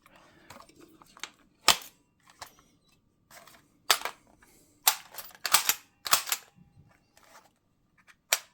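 An Umarex HK MP5K PDW CO2-powered 4.5mm BB air gun fires a string of sharp, loud pops, some single and some in quick clustered bursts, with short quiet gaps between them.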